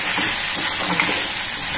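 Pointed gourd sautés with chicken curry masala in a pan, a loud, close, steady sizzling hiss of frying that holds constant through the short stretch.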